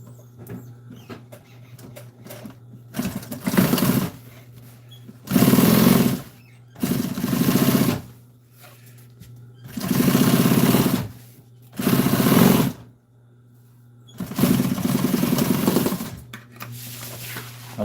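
A sewing machine top-stitches a canvas seat cover for an old military jeep, running in about six separate bursts of a few seconds each, loud and close, with quiet pauses between runs and a steady low hum underneath.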